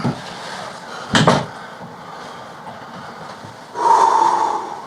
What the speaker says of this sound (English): Close the door. Check it. Lock it.